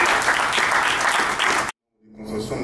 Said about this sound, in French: On applaudit le gouvernement.